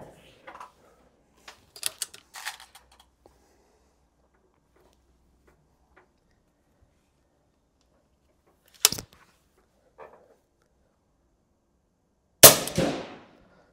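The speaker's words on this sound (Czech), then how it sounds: "Jo, druhý výstřel 106." An air rifle fitted with a silencer fires at close range: a few soft scattered clicks and handling noises, then one sharp muffled pop, a faint knock, and a final louder crack with a brief decaying tail.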